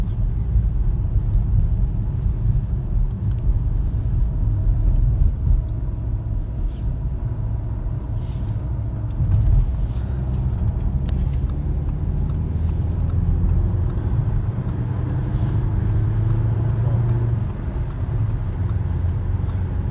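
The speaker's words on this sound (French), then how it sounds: "c'est un diesel 2 litres TDI 150 chevaux, mais ça marche très bien" A manual diesel car with a 2-litre 150 hp TDI engine accelerating up a highway on-ramp, a steady low engine rumble with road noise heard from inside the cabin, rising slowly through the gears.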